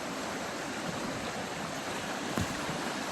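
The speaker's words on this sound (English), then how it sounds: "Look at the speed of that river." A normally small creek in North Vancouver runs swollen and fast during a huge windstorm, its continuous rushing hiss filling the whole stretch, with one short knock partway through.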